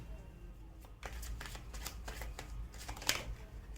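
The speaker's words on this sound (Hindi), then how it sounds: "मेरे को आपके लिए और कार्ड शफल करने की इंट्यूशन आ रही है।" Tarot cards being shuffled by hand, a quick run of soft riffling and flicking snaps close up with one sharper slap near the end, no talking over it.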